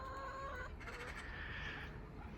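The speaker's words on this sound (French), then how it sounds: "Les oiseaux." Chickens and a rooster in the Ukrainian countryside, faint clucking and calls at a distance against quiet outdoor background.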